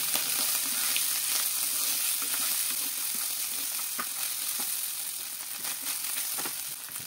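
Sausage and chopped burger patty fry in a pan with a steady, close sizzle and scattered pops and ticks as the pieces are stirred.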